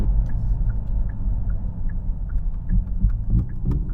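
Synthesized combustion-engine sound from the speakers of a Hyundai Ioniq 5 N electric car as it downshifts: a low, throbbing rumble marked by regular pulsing blips, heard alone without talk.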